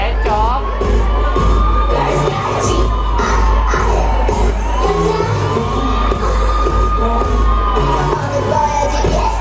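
A crowd at a K-pop cover dance event cheers, shouts and whoops continuously and loudly, with high excited yells rising over a dense, sustained roar and occasional bangs.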